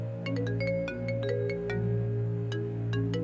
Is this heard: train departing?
no